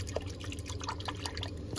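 Water drips and trickles into a small boat through a leak, a scatter of soft close plinks and drips over low background rumble, ending in a sudden louder splash or knock.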